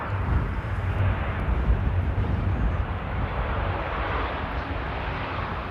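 An Aeromexico Boeing Dreamliner airliner on approach to Amsterdam Schiphol in stormy weather gives a broad, steady roar that swells slightly then holds, heard from a distance with no talking.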